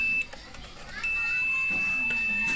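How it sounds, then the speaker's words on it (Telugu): A digital multimeter's continuity buzzer sounds during a circuit-board track test, giving a steady, high, thin electronic tone that drops out briefly and then holds continuously, with faint room noise underneath. "చూడొచ్చు మీరు బజర్ అనేది వస్తుంది"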